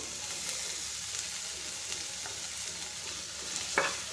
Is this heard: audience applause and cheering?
no